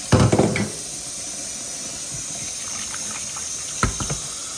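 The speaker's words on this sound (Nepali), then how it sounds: "अब चिसो पानीमा चाहिँ पखाल्नुपर्छ यसलाई" Raw pork being rinsed in cold water, with a loud burst of splashing and knocking at the start, then quiet running water and a second brief clatter near the end.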